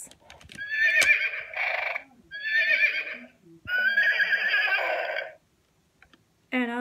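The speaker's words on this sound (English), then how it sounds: "when you push it down, it makes a loud whinny" A toy horse plays a loud, bright electronic whinny twice, followed by a longer neigh, with a clicking sound at the start and a short burst at the end.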